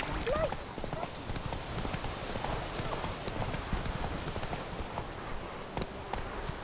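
Hoofbeats of the horse Roach galloping in The Witcher 3, a rapid continuous clip-clop rhythm running throughout, moderately close, with faint background game sounds.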